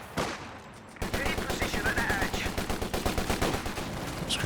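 Machine gun fire in Company of Heroes 2 during a 1v1 match: a sudden, sustained burst of rapid, evenly spaced shots that rattles on loudly for several seconds after a brief quiet opening.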